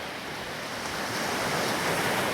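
Ocean waves wash steadily at a beach, making a broad, continuous hiss and rush with no talking, with slight wind noise mixed in.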